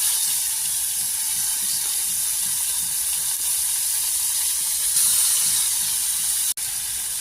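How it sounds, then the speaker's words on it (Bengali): Fish fries in a pan over a clay stove, a loud, dense, continuous hiss and sizzle with one sharp click near the end. "এখানে আমরা মাছগুলো দিলাম ভাজার জন্য"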